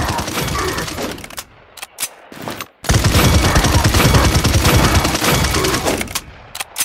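Barrage weapon in the video game Paladins fires in dense, booming bursts, with a short burst early, brief gaps around two to three seconds, then a loud sustained volley lasting several seconds before tapering off.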